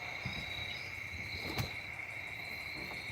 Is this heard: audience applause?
no